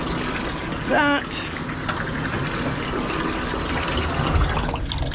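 Tap water runs steadily into a tub while a corgi is bathed and groomed, a continuous splashing hiss with a short squeaky tone early on and no clear speech.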